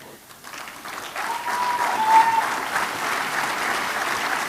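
Church congregation applauding during a Resurrection service, the clapping swelling from a quiet start into sustained, steady applause with faint voices underneath.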